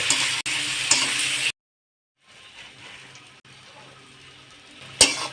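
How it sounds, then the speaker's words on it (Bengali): Onions and two bay leaves fry in hot mustard oil with a loud, bright sizzle that cuts off to brief silence, then resumes more quietly before ending on a sharp burst of spitting. "পেঁয়াজগুলো আমি লাল লাল করে ভেজে নেব"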